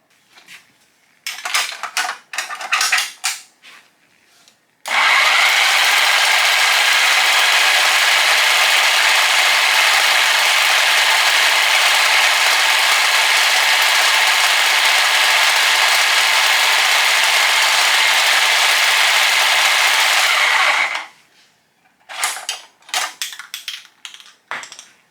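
A homemade spray paint can shaker driven by a Sawzall runs at about half speed, giving a loud, steady mechanical rattle and hum that lasts about sixteen seconds and stops abruptly, with clattering handling noise before and after.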